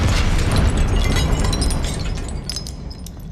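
A fiery blast spell explodes in Hogwarts Legacy, a loud rumbling burst with crackling debris that slowly fades over several seconds, with no talk.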